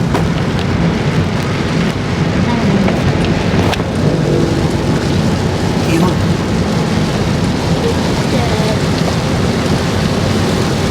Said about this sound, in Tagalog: Ulan yun, ulan.